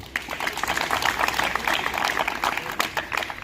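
An audience claps in a steady, lively burst of applause for the volunteers at the opening of a floodlit volleyball court in Thavalappara, the hands close and continuous throughout.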